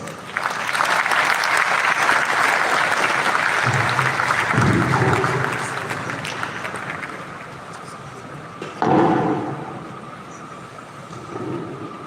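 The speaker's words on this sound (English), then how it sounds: "please a warm round of applause for the Mayor of Ghana" A conference opening ceremony crowd gives loud, dense applause that swells, then gradually thins and fades, with a brief louder burst partway through and a few scattered claps near the end.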